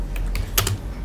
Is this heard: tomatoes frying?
no